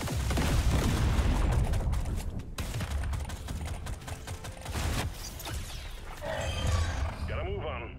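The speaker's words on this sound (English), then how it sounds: "Trigger this explosion." Explosions and heavy weapon fire from Deep Rock Galactic Survivor with a Driller in a magma core cave, loud dense booms and crackling bursts that fill most of the stretch before tapering into fainter game effects.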